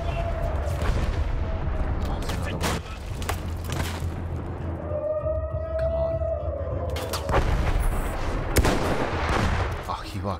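Gunfire in the Battlefield 1 campaign, with several sharp, loud shots and booms spaced through a busy battle soundscape, alongside a rising metallic whine and other game effects.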